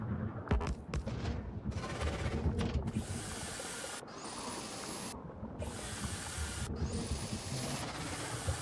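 Gun turrets firing in the video game Factorio, a dense rattling barrage of rapid shots with booming impacts and bright mechanical tones layered over one another, sustained and loud throughout.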